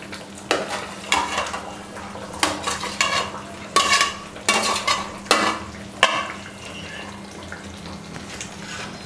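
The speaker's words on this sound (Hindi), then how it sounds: "अभी ग्रेवी में पानी डाल दिया है, ये ग्रेवी उबलने लग गई है। अब ये गट्टा डालूँगी इसमें।" A spoon stirs besan gatte into boiling gravy in a pan, making close, rhythmic scraping strokes against the metal over a soft bubbling sizzle, with no talking.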